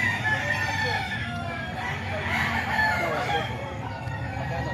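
Roosters crow among banded fighting cocks on display in San Jose del Monte, Bulacan, with a steady murmur of crowd noise and chatter underneath, the calls rising and falling over a busy outdoor background.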